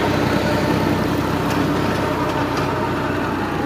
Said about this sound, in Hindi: गाड़ी का आवाज़ चेक करें, ये देखें जी